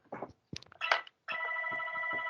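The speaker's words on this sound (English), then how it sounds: "Just let me go and take this phone call." A telephone rings with a steady electronic trill, close and clear, after a few brief bumps and rustles.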